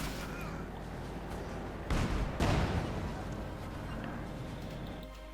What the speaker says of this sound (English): Main gun firing.